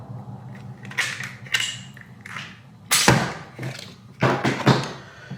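A Glock 35 pistol is opened up by hand, giving a series of close, sharp mechanical clicks and clacks spaced out across a few seconds.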